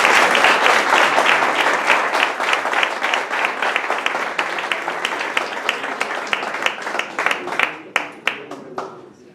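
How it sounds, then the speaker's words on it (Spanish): Audience applause at a members' and fan-club day event, dense clapping from a large crowd that thins into scattered individual claps near the end. "De manera que vamos a tributarle un aplauso."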